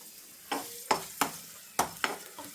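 Raisins go into a pan of green gram payasam, and a spoon stirs them with several sharp scraping clacks against the pan over a faint sizzle, close and fairly quiet with no talk.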